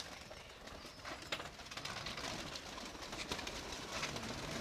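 Dobaj pigeons offered for sale coo softly at a bird market, faint low murmuring calls set within a busy, noisy outdoor background with scattered clatter.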